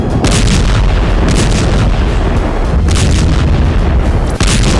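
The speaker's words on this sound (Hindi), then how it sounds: "तेज आवाज के साथ बम फटा," Explosions from a white phosphorus bomb strike in wartime Lebanon sound as repeated heavy booms and loud rumbling blasts, close and continuous throughout with no voices.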